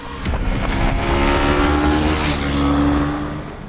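A 2025 TVS Apache RR310 engine in track mode pulls hard through the upper revs, a loud continuous rising whine building and holding before easing off slightly at the end.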